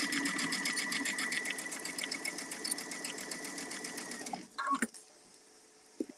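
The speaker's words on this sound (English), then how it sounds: "pin it in place, and sew toward that." Sewing machine stitching the seam of a cuddle-fabric star pillow, a steady fast rhythmic whir for about four seconds before it stops, followed by a few soft handling clicks.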